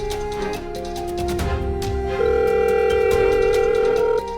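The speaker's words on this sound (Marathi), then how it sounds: "अगं फोन वाजतोय." A telephone rings steadily with a sustained electronic tone for several seconds, loud and close, set among a Marathi TV drama scene with no talking over it.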